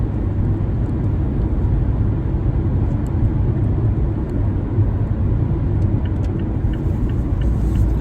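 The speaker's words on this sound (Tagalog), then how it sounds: "Dito ako sa highway guys." Steady highway traffic on a clear winter day without snow, heard as a close, continuous broadband roar of passing vehicles that holds at an even level throughout with no talk.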